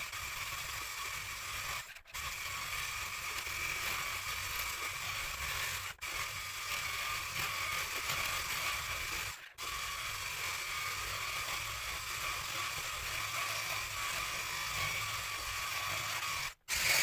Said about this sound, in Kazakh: сахарный пудрамыз бен творожный сырымызды қосып, бәрін бірге крем дайын болғанға дейін, қою әдемі крем шыққанға дейін жақсылап миксерлейтін боламыз